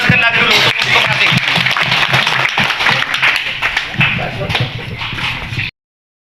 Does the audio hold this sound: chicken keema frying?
no